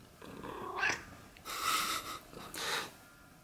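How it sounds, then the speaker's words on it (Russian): A cat purrs close by in soft, rhythmic bursts with brief pauses, with faint breathy snuffles between them. "Она начала мурчать."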